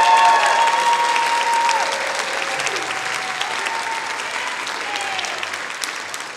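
An audience applauds a clarinet player at a college concert band performance, with steady clapping throughout and sustained instrument tones ringing over it.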